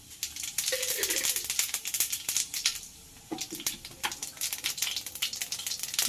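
Cumin seeds dropped into hot oil for a Telangana-style mutton curry crackle and sizzle in dense, rattling bursts, briefly easing midway before popping again close and fairly loud.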